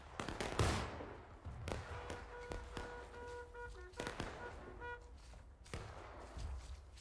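Scattered musket shots crack across a Civil War battlefield in War of Rights, several sharp reports spread over a few seconds amid distant battle noise, with voices calling in the background.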